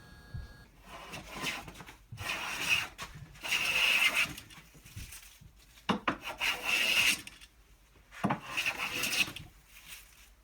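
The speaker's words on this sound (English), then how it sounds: "I just spent some time smoothing it up with my Von & Bushnell number 4 and my 4 square 1105" A number 4 hand plane and block plane smooth the rough back of a wooden C-channel, with repeated rasping strokes in steady rhythm, each a few seconds long, close and moderately loud.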